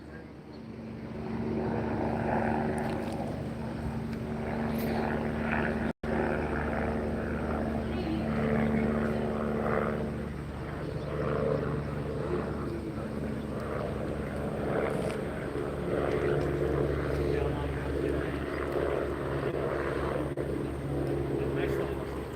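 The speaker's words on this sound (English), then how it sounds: "Rescue helicopter." A rescue helicopter engine drones continuously for a long stretch overhead, with people talking over the steady throbbing hum.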